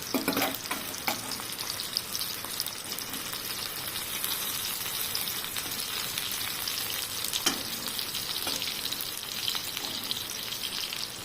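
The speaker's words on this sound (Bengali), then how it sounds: "এবার পটলগুলো ভেজে চারপাশে উঠিয়ে আলুগুলো দিলাম আলুগুলো এবার ভাজা হোক" Continuous sizzling of potatoes frying in hot oil, a steady crackling hiss with occasional stirring scrapes, no voices.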